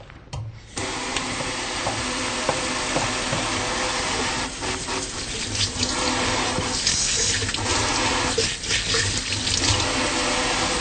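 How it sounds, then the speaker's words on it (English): Hands being washed under a running tap at a sink before a neurological examination, a steady loud rush of water starting abruptly and continuing throughout, with faint splashing variations as hands move under the stream. "I'm going to take a minute to wash my hands."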